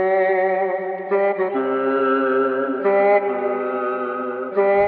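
A pitched-down sample processed with EQ and reverb in FL Studio plays as sustained harmonic chords that shift every second or so, smooth and steady with no voices.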